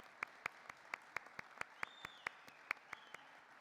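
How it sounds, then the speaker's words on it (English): Award ceremony audience applauding, heard as a thin run of distinct, evenly spaced claps at a steady rhythm, fairly sparse and moderately loud, with a faint tonal sweep in the background. "A round of applause for our APPM president."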